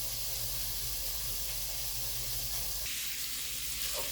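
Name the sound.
ground meat browning in a pan for lasagna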